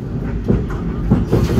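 An Indonesian KA Lodaya economy passenger train rolls along, its carriage rumbling low and steady with faint rhythmic clacks of wheels over rail joints, heard close from inside the car with no talk.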